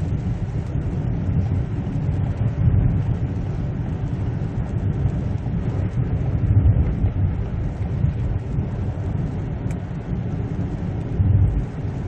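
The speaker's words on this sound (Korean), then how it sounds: "RPM 좀 떨어져서 기아 변속이 되고요" Ssangyong Chairman W with a 3.6 engine heard from inside the cabin while driving, a steady deep rumble and road roar that swells slightly as the revs drop and the automatic gearbox shifts smoothly, with no voices.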